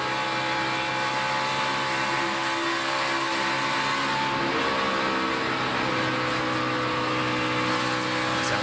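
A NASCAR stock car engine roars through a qualifying lap, a continuous loud drone that holds steady with slight swells in pitch, no talk over it.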